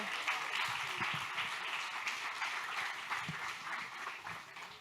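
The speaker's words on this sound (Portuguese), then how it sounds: "aplausos ao Senhor" Church congregation applauding during a Friday evening worship service, steady even clapping at moderate distance, fairly faint, with a few low voice sounds underneath.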